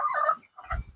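Andijan black chickens for sale in Namangan give two short, close clucking bursts with a brief gap between them.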